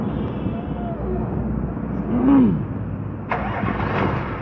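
A diesel car engine with a fault that keeps making it shut off cranks and catches, settling into a close, loud idle with a rising rev partway through.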